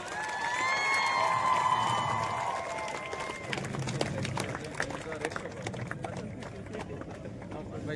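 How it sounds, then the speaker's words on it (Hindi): Audience at a school event for deaf and intellectually disabled children bursts into sustained applause with hooting and cheering, loud and continuous, with crowd voices and shouts mixed throughout. "ऐसे नहीं, तालियां हुटी के साथ"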